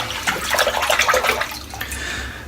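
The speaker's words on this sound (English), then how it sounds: "Let's dip the old razor in the water." Close splashing and sloshing of water as a slant safety razor is dipped and swished, followed by a few drips, with no talking.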